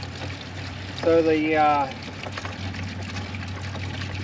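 Water from an old plastic milk jug pours briefly into a solar wax melter, a short gurgling splash lasting under a second over steady outdoor background hum, with a few spoken words nearby.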